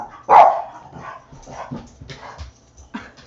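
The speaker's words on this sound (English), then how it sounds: "I don't know if you can hear me over the dogs." Several dogs bark loudly nearby in a quick burst, then keep up scattered yips and whimpers at a lower level through the rest of the moment.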